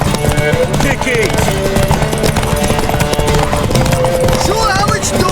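Horse hooves clip-clop in a quick, steady rhythm in the video game The Witcher 3: Wild Hunt, mixed with game sounds and voices talking over them.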